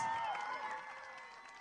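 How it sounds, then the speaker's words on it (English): A school celebration crowd gives the teachers a round of applause with some cheering, a brief, steady wash of clapping and voices at moderate distance. "A very big round of applause for all our teachers."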